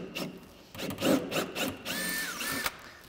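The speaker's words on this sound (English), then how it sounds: "I'll go ahead and bring my quarter inch bit through the back side." A power drill with a quarter-inch bit boring a hole through the back side of a panel while fitting a snowmobile ski and snowboard rack, short bursts of whirring and grinding that rise and fall over a few seconds.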